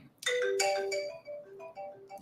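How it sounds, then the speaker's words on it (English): A phone ringtone chiming in a broadcast studio during a call-in sports show, a few bright melodic tones ringing out in sequence and then tapering off, with no talking over them. "Somebody's ringing the phone already."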